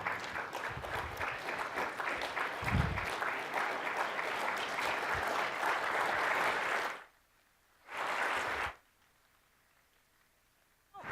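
A conference audience breaks into loud, dense clapping that lasts several seconds, then stops abruptly. A short second burst follows before quiet.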